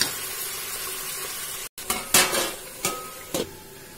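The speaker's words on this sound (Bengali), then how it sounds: "মশলাগুলোর সাথে ভালোভাবে সবজিগুলো মিশিয়ে নেওয়া হচ্ছে।" Mixed vegetables with drumstick being stirred with spices in a pan, a soft sizzle under repeated scraping strokes of a metal spoon, four or five distinct stirs after a brief gap.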